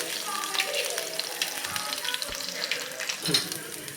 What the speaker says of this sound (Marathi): हिरव्या मिरच्यांचे तुकडे घालतीये एक दोन ते तीन मिनटे हे मिरचीचे तुकडे परतून घेऊया